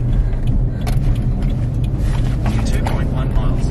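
Steady low road rumble inside a moving car on the way to a dog park, continuous and fairly loud throughout, with faint higher rattles and movement noises over it.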